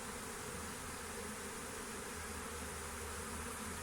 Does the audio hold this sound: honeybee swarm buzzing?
yes